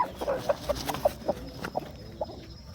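A brooding hen sitting on eggs at a poultry farm clucks in soft, low, evenly spaced notes, about a dozen short clucks close by with quiet background.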